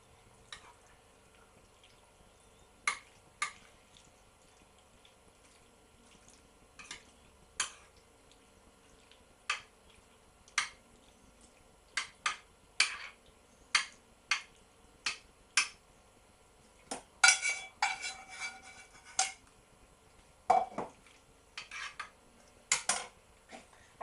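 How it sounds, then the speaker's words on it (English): A spoon stirs macaroni cheese sauce in a baking dish, producing a scattered series of close, faint clinks and scrapes against the dish over near silence. "give it a bit of a stir to get the sauce"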